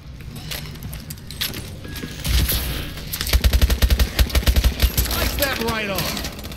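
A rapid string of loud automatic gunshots pounds out evenly in Call of Duty: Advanced Warfare zombies mode, following scattered clatter and game noise, with a voice talking alongside.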